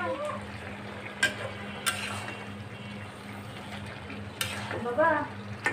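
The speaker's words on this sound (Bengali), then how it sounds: "ধনিয়া পাতা দিয়ে আবার একটু নেড়ে চেড়ে তারপর ঢেকে দিয়ে রান্না করে নিব" Curry being stirred in a pan with coriander leaves just added, a continuous low sizzle with a few sharp scrapes and clinks of the spoon against the pan, moderately close.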